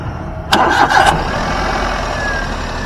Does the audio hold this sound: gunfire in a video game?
no